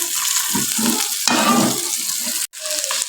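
Finely chopped okra (bhindi) frying in oil in a pan, a steady wet sizzle with occasional stirring scrapes throughout, briefly cutting out near the end before resuming.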